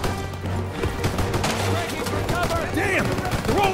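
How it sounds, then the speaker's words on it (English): Machine gun fire in the Call of Duty WWII video game: dense, rapid bursts of shots crackling over a steady rumble, fairly loud, with shouted soldier voices breaking through near the end. "MGs on the stairs!"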